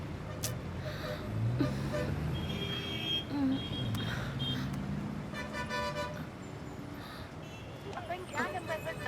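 City street traffic with car horns honking, a faint, distant bed of vehicle noise broken by several short toots and one longer wavering horn, with faint voices underneath.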